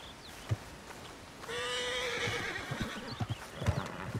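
A horse in the Red Dead Redemption 2 video game gives one clear, fairly loud whinny, with soft hoof clops and small thumps before and after it.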